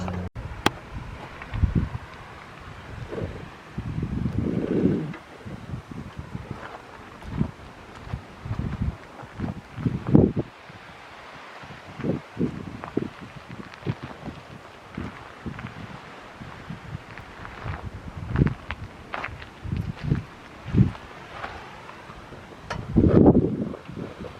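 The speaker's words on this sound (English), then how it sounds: "it is really windy" Strong wind buffets the microphone in uneven gusts, with rustling and rumbling bursts coming and going throughout.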